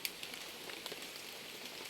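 Steady rain falls outdoors, a soft continuous hiss with faint scattered drop ticks, quiet and even throughout with no voices.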